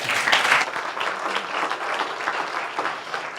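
Steady audience applause after a speech at a health-tech investor summit, a continuous wash of many hands clapping at moderate volume for a few seconds.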